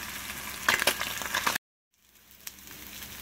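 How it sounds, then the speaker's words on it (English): Perch fillets sizzle in a hot frying pan right after being flipped, a crackly, spitting fry that cuts out abruptly for a moment, then resumes more faintly with occasional pops. "there's our perch cooking right now"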